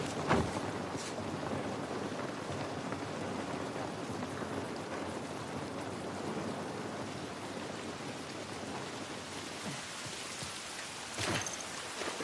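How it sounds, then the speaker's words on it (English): Rain falling outdoors in the video game The Last of Us Part I, a steady dense hiss of rainfall with a few sharper patter bursts, continuous and unaccompanied by speech. "Rain ain't gonna do us any good."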